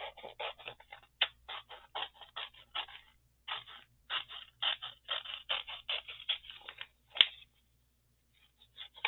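Scissors snip through scrap material in a quick series of short crisp cuts with a few pauses, close and alone in a quiet room.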